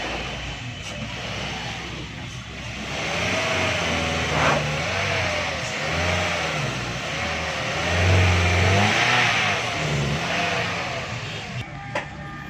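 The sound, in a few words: car engine revving during test after clutch plate replacement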